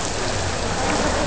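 Rain pours steadily at an outdoor village festival, a dense, loud hiss of drops on surfaces that stays even throughout the short stretch, with no voices.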